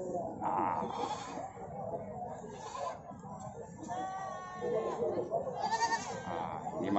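A young goat kid, about two months old, bleats repeatedly in harmonic cries at a busy goat market, with people talking close by and crowd noise underneath.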